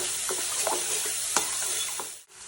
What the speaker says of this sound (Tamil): நல்லா ஃப்ரை ஆகுது.